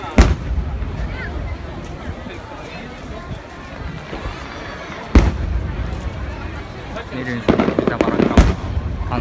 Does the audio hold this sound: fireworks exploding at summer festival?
yes